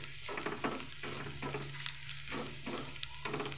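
Sinangag, Filipino garlic fried rice, fries in plenty of oil, a soft continuous sizzle broken by repeated stirring scrapes in a steady rhythm, fairly quiet, with a faint low hum underneath and no voices.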